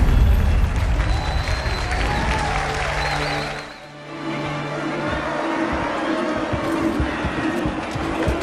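A large crowd cheers and applauds for Master Chief, a broad roar of clapping and voices that dips briefly mid-way then swells back, with a low hum beneath.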